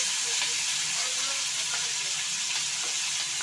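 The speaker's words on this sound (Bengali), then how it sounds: "আদা, টমেটো, ক্যাপসিকাম আর লঙ্কা সব কড়াইতে দিয়ে দেওয়া হলো।" Ginger, tomato, capsicum and chilli sizzle in a wok, giving a steady, soft hiss of frying with faint scraping, with no talking.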